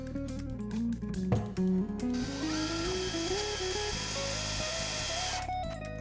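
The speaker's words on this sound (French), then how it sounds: "Perce deux trous à 9 mm du bord du meuble" A power drill bores two holes in a kitchen cabinet, 9 mm from the edge: a loud, close, whining motor with ratcheting clicks at the start, then a sustained high grinding run that stops abruptly near the end.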